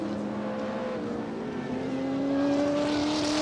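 Touring cars racing up the back straight at Sandown in 1977, engines droning loudly with steady rising pitch, one car pulling close and swelling louder toward the end, no voices over it.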